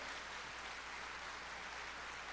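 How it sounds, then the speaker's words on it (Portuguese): Steady applause from a church service congregation, a continuous wash of clapping at moderate distance with no pauses. "Isso merece uma salva de palmas para o Senhor."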